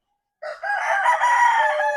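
A rooster crows once, loud and close, a long strained call that holds steady to the end.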